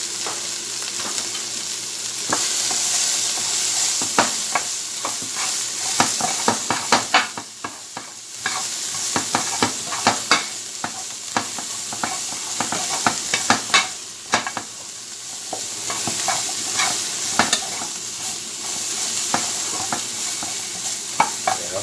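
Chicken and vegetables, broccoli and cauliflower among them, sizzle steadily in a hot stir fry while a utensil stirs and scrapes the pan in repeated sharp clatters over the constant frying hiss.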